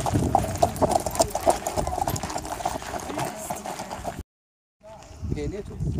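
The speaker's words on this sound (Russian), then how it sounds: "Вот так, видите, лошади скачут." Horse hooves clip-clop in a quick rhythmic beat on the ground at Petra, Jordan, close and clear, with people talking over it before a brief dropout.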